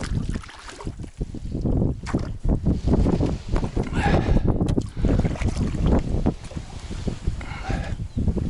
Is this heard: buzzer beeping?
no